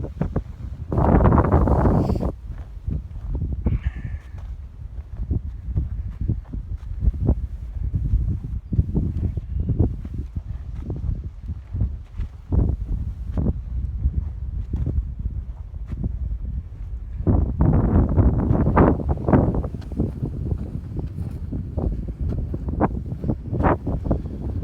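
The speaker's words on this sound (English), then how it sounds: "The wind has picked up pretty significantly." Strong gusty wind buffeting an outdoor microphone, heavy low rumbling blasts that swell and ease over about twenty-five seconds, with no talking.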